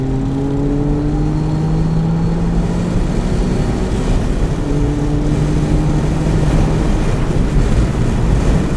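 HKS-tuned Liberty Walk Honda S660 kei car driving, its engine droning loudly and steadily with rising tones as it pulls through the gears, with heavy wind rush on the microphone throughout.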